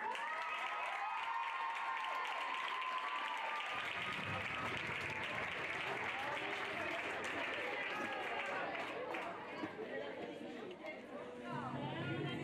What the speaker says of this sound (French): vous pouvez les applaudir bien fort